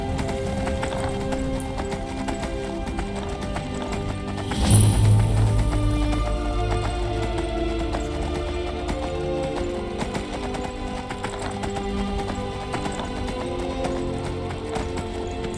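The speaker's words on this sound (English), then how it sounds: "Finally got a horse." Horse hooves clip-clop in a steady trotting rhythm while riding a saddled horse in the open-world game Skyrim, continuous and fairly close, with a brief whinny-like swell near the start and faint game ambience beneath.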